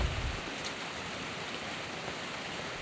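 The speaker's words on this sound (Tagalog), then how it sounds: "palaging umuulan mga palangga" Steady rain patters on leafy garden plants in a cool, wet setting, a continuous soft hiss of drops with no breaks and no voices.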